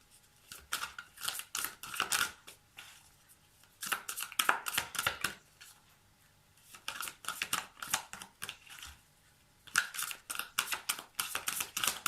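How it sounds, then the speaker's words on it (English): Tarot cards are shuffled and rearranged by hand, making soft, rapid crisp flicks and rustles in three bursts with short pauses between them, quiet and close. "I'm just going to rearrange the cards"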